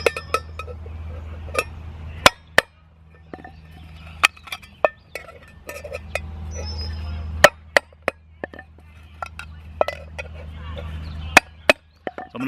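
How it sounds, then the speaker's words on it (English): Holes being punched one by one into a tin can for a hobo stove, sharp metallic knocks at irregular intervals over a low background hum, close and distinct, with quieter scraping between strikes. "we can keep on going and keep puncturing holes down in this can"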